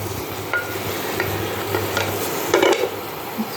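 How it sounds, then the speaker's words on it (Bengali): Chopped vegetables with turmeric are stirred in a hot pan for a dalia recipe, a soft sizzle under scraping spatula strokes and a few clinks, close and steady, no talking. "এবার নেড়ে একটুখানি সবজিটাকে কষিয়ে নেব"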